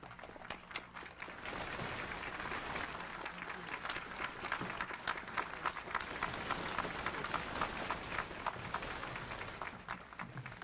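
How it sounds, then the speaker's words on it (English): Audience applause at a Roanoke veterans care center renaming ceremony, sustained crowd clapping heard from a distance, fairly faint but even throughout, with no talking over it. "thank you for that warm ovation"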